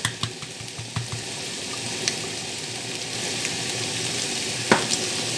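Garlic and paprika frying in a pan while being stirred, a steady close sizzle with faint scraping and a few soft clinks from the utensil, for omelettes savoyard-style.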